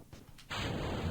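A spacecraft explodes in the video game Kerbal Space Program: after a moment of near quiet, a sudden loud blast opens into a dense, sustained roar that carries on to the end.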